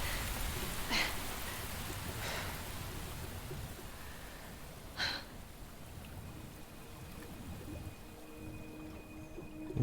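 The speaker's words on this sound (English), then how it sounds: "You know, it's raining somehow." Steady rain hissing down across a surface in Resident Evil 4 Remake, a constant soft wash of drops with a few brief sharper splashes, faint and even throughout.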